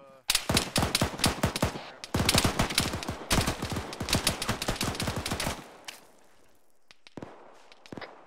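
Rapid bursts of enemy automatic gunfire in ArmA 3 rattle loudly and close for several seconds, with short gaps between volleys, then thin out to a few scattered shots.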